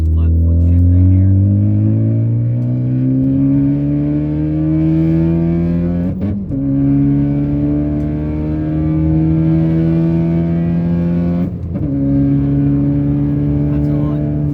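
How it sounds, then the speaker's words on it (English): A car accelerates hard through the gears with flat-foot shifting, the engine note climbing steadily, then cutting out briefly at each shift before rising again, loud and close throughout. "Try some flat foot shifting here."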